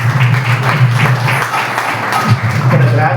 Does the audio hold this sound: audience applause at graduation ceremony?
yes